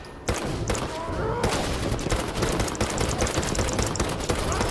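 Enemy gunfire in the Fallout 4 video game: dense, loud volleys of rapid shots crackle without pause across the whole stretch, like a sustained fusillade.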